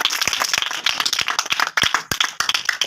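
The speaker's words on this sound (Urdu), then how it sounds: "زوردار تالیاں اس کلام کے لیے" A church congregation claps loudly and unevenly, individual sharp hand claps standing out in a ragged, lively burst with no talk.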